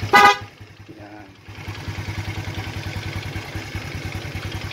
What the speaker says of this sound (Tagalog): Check natin yung busina.